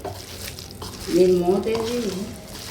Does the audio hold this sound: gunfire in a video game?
no